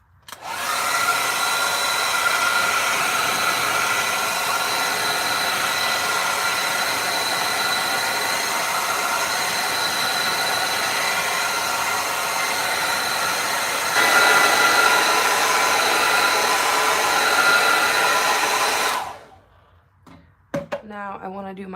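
A hair dryer blows steadily on acrylic paint, a loud continuous whooshing drone that shifts slightly in pitch partway through, then cuts off near the end, followed by brief speech.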